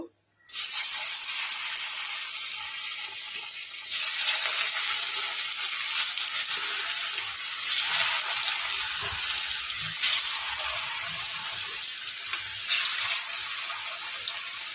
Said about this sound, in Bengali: তেলটা গরম হয়ে গিয়েছে, এবারে একটা একটা করে ছেড়ে দেবো